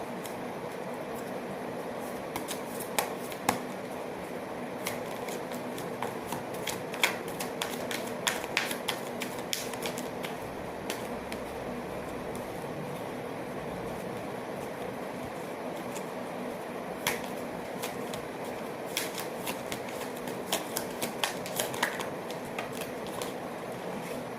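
Oracle cards shuffled by hand, producing soft riffling and sharp tapping clicks in irregular bursts over a quiet room hum, with no talking.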